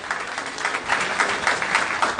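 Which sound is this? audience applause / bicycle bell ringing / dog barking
audience applause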